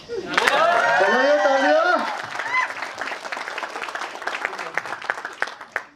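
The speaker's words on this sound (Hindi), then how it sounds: "चलो वैसे ताली वाली थोड़ी बजा लो" A stand-up comedy audience breaks into applause, with voices whooping over the opening seconds before loose, crisp clapping carries on steadily to the end.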